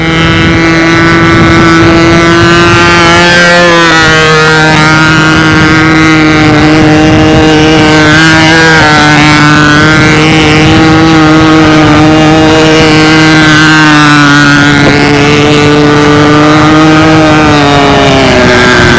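A model pylon racing airplane engine runs loud and close on a windy day at the 2001 national championships, a continuous high buzzing whine whose pitch wavers with throttle changes, under heavy wind rumble.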